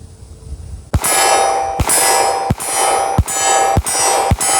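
Hi-Point .40 handgun firing a magazine after lubrication, six loud sharp shots at roughly even intervals of just under a second, each with a ringing metallic decay, close to the microphone.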